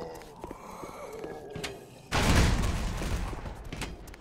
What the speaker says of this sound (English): Fuck, grenades suck, dude. Okay, just throw them down here.